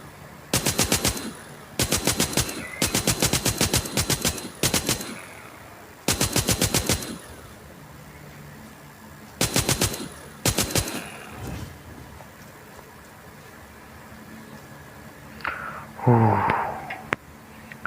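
Bursts of rapid automatic gunfire in The Walking Zombie 2, a zombie shooter game, come in several short volleys with pauses between them, followed by a growling, wheezing creature sound near the end.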